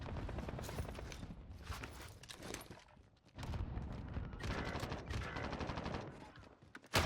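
Rapid bursts of automatic gunfire from the video game Warzone, loud and near, running almost continuously with a short gap midway and a sharp blast at the end.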